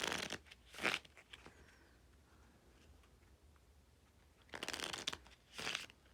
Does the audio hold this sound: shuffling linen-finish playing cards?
yes